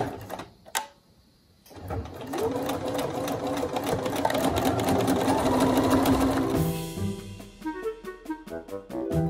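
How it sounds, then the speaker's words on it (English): Sewing machine stitching quilted fabric for a basket, a steady fast mechanical whir running several seconds near the mic, then stopping into quieter handling clicks. "So now we're going to the sewing machine."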